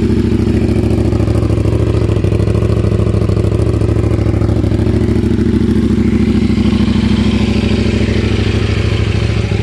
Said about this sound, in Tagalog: mapapansin nyo, mas tahimik siya sa idle. Hindi siya masyadong maingay, no?